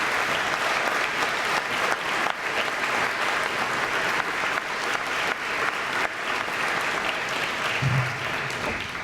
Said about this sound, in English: you need to give yourself a big round of applause